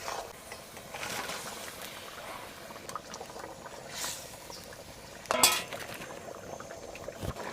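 Fish going into a pot of curry gravy on the boil in a village kitchen: a steady low bubbling runs throughout, broken by one sharp clinking splash near the end.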